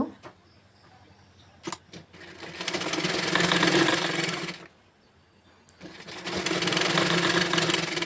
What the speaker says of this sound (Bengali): এখন উল্টিয়ে চেপে চেপে ভালো ফিনিশিং করে ভালোভাবে সেলাই করে নেব